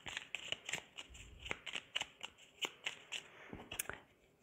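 Small fairy oracle cards are shuffled and drawn, giving a quiet run of crisp, rapid flicks and slaps with short pauses, about a dozen distinct snaps spread across the stretch with no voice.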